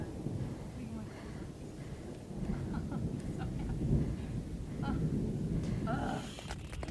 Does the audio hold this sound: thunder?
yes